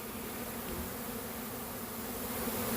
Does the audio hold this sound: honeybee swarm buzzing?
yes